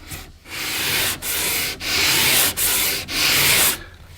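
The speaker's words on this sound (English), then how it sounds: "And now when I'm sanding" Rhythmic sanding on a wooden guitar fretboard, five long rasping strokes back and forth with short pauses between, loud and close.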